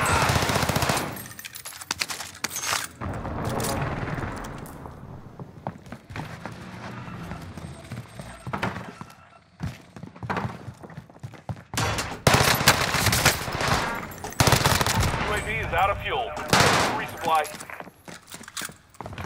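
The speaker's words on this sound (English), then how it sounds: "The gun doesn't have a big enough mag. I have to just keep shooting constantly." Rapid sustained bursts of XM4 assault rifle fire on Rebirth Island in Call of Duty Warzone, loud and near, shooting almost constantly in long strings with game effects and a voice talking in between.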